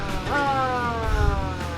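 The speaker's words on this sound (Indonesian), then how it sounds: "Ini untuk sirine." A rising electronic siren tone from a Suzuki Jimny converted to look like a police Jeep Willys sweeps upward and holds steady, loud and close, with low rumbling noise underneath.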